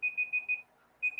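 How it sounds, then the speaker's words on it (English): A series of short, high electronic beeps in quick succession, a brief pause, then the beeping resumes; fairly faint against a quiet background. "Now I just hear something beeping."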